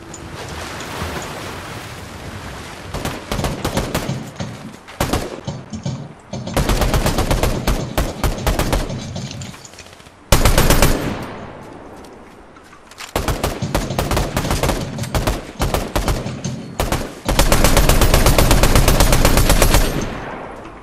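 Fortnite gameplay erupts in bursts of rapid automatic gunfire and fusillades, loud and close, alternating with quieter stretches of ambient wash between volleys.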